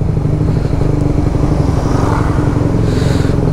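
A Raider 150 Fi motorcycle fitted with a shorty powerpipe exhaust runs loud and close during a ride, giving a dense, throbbing exhaust rumble with a rapid pulsing texture and crackling edges.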